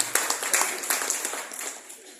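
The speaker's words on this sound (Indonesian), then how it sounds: "Tepuk tangan untuk Pak Sunarto." Scattered audience applause at a farewell gathering for an outgoing Hindu community official in Banten, a moderate patter of clapping that starts loud and gradually thins and fades over about two seconds.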